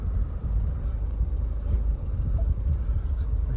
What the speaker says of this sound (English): I'll just start the car up